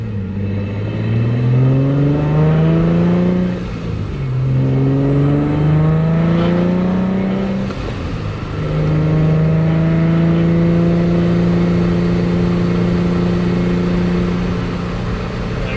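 A Vortech-supercharged Infiniti G35 coupe running 14 psi of boost and about 460 whp roars through a tunnel, its engine climbing loudly toward redline in three rising pulls with brief dips at the gear changes.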